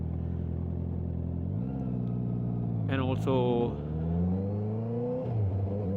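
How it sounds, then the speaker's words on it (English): A Honda CB650R motorcycle with an Akrapovic exhaust idles with a deep drone, then revs up sharply in a couple of rising bursts before settling; a voice speaks briefly over it. "My goal is to basically capture the pure engine sound"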